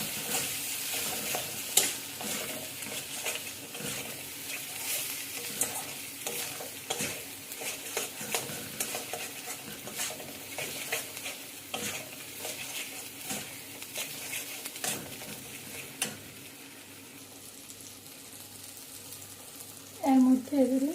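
Food stirred and mixed in a frying pan with spice powder, a close continuous scraping and sizzling that keeps going for most of the span, then quiets near the end with a short clatter.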